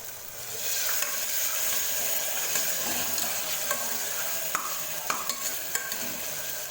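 Tomatoes sautéing with a cooked-down paste in a pan for a beef gravy, a steady close sizzle with repeated scraping and clinking strokes of a spoon stirring through the mixture, no voices.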